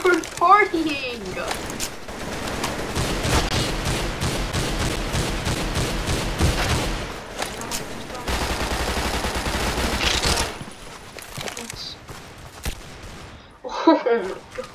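Rapid bursts of G3 battle rifle fire in a Roblox gun game, loud and near, rattling steadily for about ten seconds before thinning out, with players talking over the shots.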